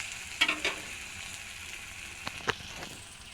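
Onions fry in a pan with a faint, steady sizzle and a few sharp crackles and pops, the stirring close by but quiet, with no voices.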